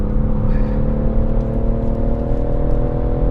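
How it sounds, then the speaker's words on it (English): A BMW M140i with its B58 engine pulls hard on track at Goodwood, a loud, steady in-cabin engine drone with strong low harmonics and a rising whir, and no voices. "And this B58 engine."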